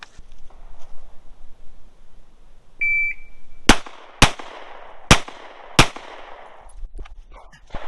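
Four sharp gunshots rung out in quick succession on a shooting range during a timed four-round drill, loud and close, preceded by a short electronic shot-timer beep, with quiet ambience before and after.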